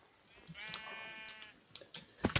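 A Minecraft sheep bleats once with a wavering, mid-pitched call, quiet and close, followed by a few soft clicks and taps from game play.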